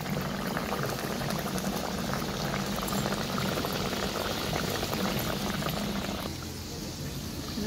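Oil in a hot kadai for frying Mughlai paratha crackles in a loud, dense, continuous sizzle close by, easing slightly toward the end, with no voices.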